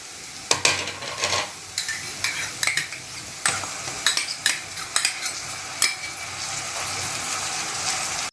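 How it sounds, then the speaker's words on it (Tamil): Golden-fried onions with ginger garlic paste sauté in a pan for prawn gravy, a steady sizzle broken by repeated sharp scrapes and clinks of a spatula stirring, close and clear. "இஞ்சி பூண்டு பேஸ்ட்டு நல்லா பச்சை வாடை போகிற வரைக்கும் வதக்கி விட்டுட்டே இருங்க"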